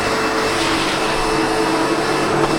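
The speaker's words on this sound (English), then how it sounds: "the best I can do is to shake it out on the floor and vacuum up the residue" A SEBO Automatic X7 Boost ePower vacuum cleaner running indoors, a loud, steady close-up motor whine and airflow roar throughout with no talking.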